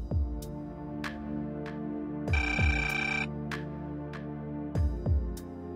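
A telephone rings in an indoor scene from a Kannada TV drama, a short, bright ringing burst set against steady background music, with no talking.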